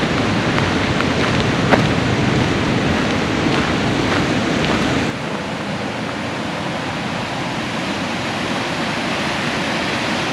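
Bridal Veil Falls pouring in a steady, loud, dense roar of running water, continuous and unbroken with no voices, the level dropping slightly partway through.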